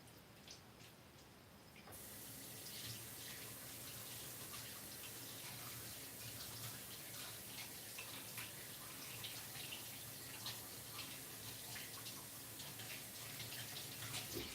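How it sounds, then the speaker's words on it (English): Tap water runs steadily into a sink for hand washing in a home kitchen before cooking, starting quietly then opening into a constant close splashing rush with no talk. "I'm gonna wash my hands and get started with cooking."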